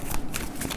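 A brief, crisp riffle of tarot cards being shuffled, a quick papery flutter heard close up and alone.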